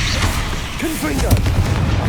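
Confringo spell blast in Hogwarts Legacy: a loud, booming burst with a rumbling low end, followed by a short swooping magical whine and scattered crackles, heard under a faint voice.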